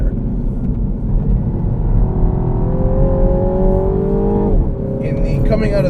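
A 2017 Mini Cooper S four-door with a JCW tune, its engine held at redline with a steady high whine that dips briefly near the end, loud inside the cabin while someone talks over it.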